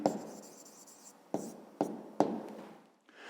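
A pen scratches across paper in a few bursts of writing, with sharp taps as it lifts and touches down between strokes, close and fairly quiet, alone without speech.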